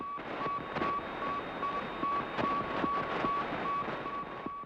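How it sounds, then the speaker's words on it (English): Sputnik, the small Soviet satellite of 1957, sends its radio signal as a steady run of short, evenly spaced high beeps over a dense hiss of static and noise, with no voices. "When the tiny satellite Sputnik beamed its signal back to Earth"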